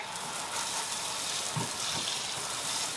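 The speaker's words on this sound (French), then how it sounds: "Une fois qu'on a brossé, on rince abondamment à l'eau claire, au jet." Water jet rinsing a brushed wooden deck after cleaning with soap, a continuous loud hissing spray with no break from start to finish.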